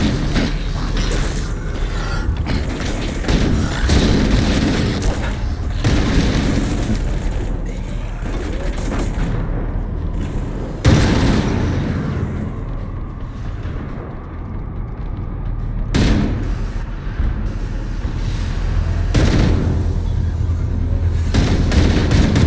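Sustained Halo combat as power conduits are destroyed: dense gunfire rattles beneath heavy booming explosions and mechanical rumble, loud and continuous with sharp blasts punctuating the din.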